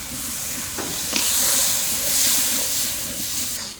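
Paneer water poured into a hot pan bursts into a loud, sustained steam hiss and sizzle that swells and holds for several seconds, with a few sharp clinks at the start.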